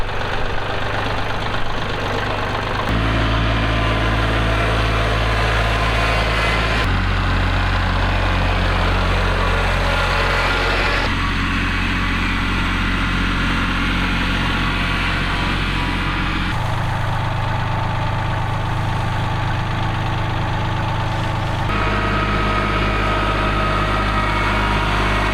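A tractor engine idles with a low, steady rumble, its pitch shifting a few times over the stretch, with no voices.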